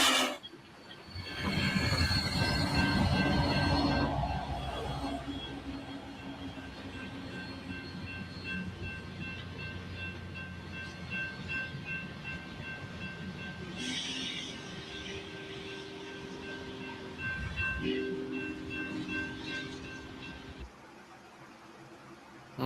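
A passing train with a caboose set in the middle of its passenger cars rolls along the tracks, a loud rumble swelling at first and then holding as a steady roar with faint wheel squeal, later easing off.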